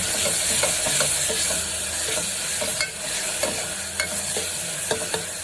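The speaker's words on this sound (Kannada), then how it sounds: "ಸ್ವಲ್ಪ ಶುಂಠಿ ಬೆಳ್ಳುಳ್ಳಿ ಪೇಸ್ಟ್ ಹಾಕ್ತೀನಿ" Ginger garlic paste fries with chicken gizzards in a pan, a constant hissing sizzle with scattered light clinks and scrapes as the mixture is stirred.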